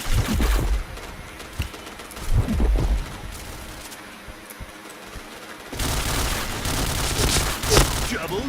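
Rapid bursts of gunfire ring out in the Point Blank shooting game, crackling in quick volleys with heavier low thumps early on and a denser stretch of fire toward the end, and a voice is faintly heard at points.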